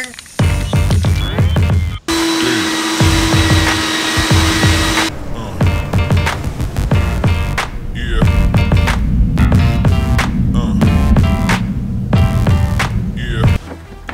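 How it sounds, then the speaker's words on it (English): A loud motor whine runs close and continuous, a steady high drone that shifts pitch and cuts out briefly, from an old Bissell carpet cleaner at work. "test this awesome Bissell vacuum carpet cleaner"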